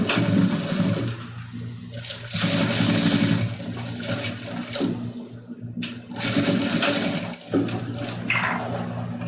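Sewing machine stitching fabric with the presser foot lowered, running in long steady bursts with brief pauses, close and fairly loud, with no talking.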